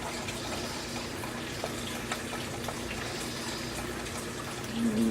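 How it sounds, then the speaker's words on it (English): A pot of water for noodles boils on the stove, giving off a steady, soft, hissing bubble and churn that continues without a break. "I have my water boiling for my noodles"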